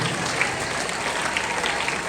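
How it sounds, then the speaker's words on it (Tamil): An audience at a Christmas celebration claps for the students and teachers, a dense, even applause that carries on without a break across the whole short stretch. "கைத்தட்டி நம்முடைய வாழ்த்துக்களை பாராட்டுகளை தெரிவிப்போம்"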